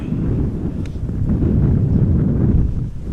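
Steady wind roars across the open ground at Amsterdam Schiphol Airport on a crosswind day, a dense low rumble of gusts buffeting the microphone continuously for a few seconds, with no voices.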